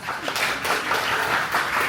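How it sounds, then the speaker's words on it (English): Steady applause from a crowd, dense and continuous clapping filling the whole stretch at moderate loudness. "applause"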